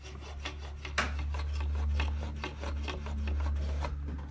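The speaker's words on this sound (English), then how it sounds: "you can kind of hear that it's the wire scraping on wood" Wire scraping and rasping against a wooden ceiling joist while being fished through during a bathroom exhaust fan install, a steady close rubbing with repeated scratchy strokes and a low hum underneath.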